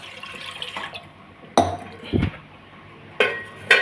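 Water is poured in short bursts into a metal pot on a stove while making caramel pudding, with splashes and clanks separated by quiet pauses.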